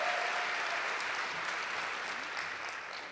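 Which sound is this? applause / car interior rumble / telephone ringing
applause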